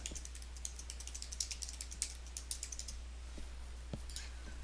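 Fast typing on a computer keyboard, a close run of quick light key clicks that thins out toward the end, over a low steady hum.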